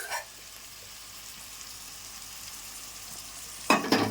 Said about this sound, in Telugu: ఇప్పుడు చేపలు తీసుకున్నాం, చేప ముక్కలన్నీ వేసేసుకోవాలి.